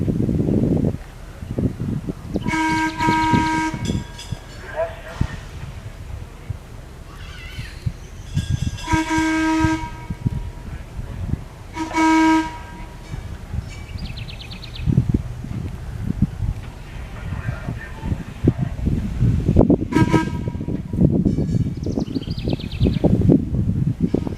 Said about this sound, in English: And Danny, give us an example of the gong and the whistle and pass in review.